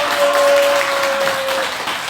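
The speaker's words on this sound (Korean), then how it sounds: "힘찬 박수를 대장님 선물에" Audience applause at a lecture in a Won Buddhist temple hall in Guri, a dense steady wash of clapping with a faint sustained tone running beneath it.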